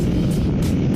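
A Kawasaki Ninja 7 Hybrid motorcycle, a 2024 model, accelerates hard with boost engaged in manual mode, giving a steady, loud, dense engine and road roar that runs unbroken through the moment.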